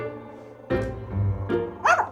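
A small dog gives a few sharp, high barks and yips, close by, spaced out over a couple of seconds with a faint whimpery edge.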